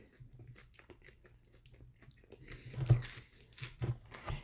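Crispy Burger King food being bitten and chewed close up, a run of soft crunchy bites and mouth sounds that grow louder and busier toward the end, with no talking.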